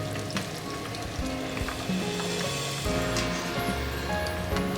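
Vegetable tempura sizzles steadily in hot oil in a pot, a dense, close crackle and hiss with small bubbling bursts that swell slightly toward the end, with no voices.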